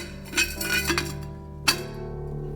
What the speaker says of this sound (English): It's probably making it really annoying, like scratching glass sound